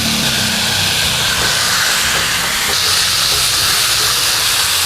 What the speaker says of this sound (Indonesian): Sisanya daging sapinya akan aku tumis dengan bumbu yang sedikit